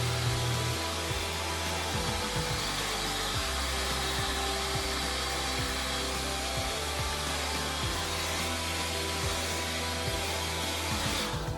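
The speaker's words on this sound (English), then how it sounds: "I am going to blow dry the setting mousse off of there." A hair dryer blows setting mousse dry on stitch braids, a loud steady whoosh with a motor hum running close and unbroken throughout, no talking.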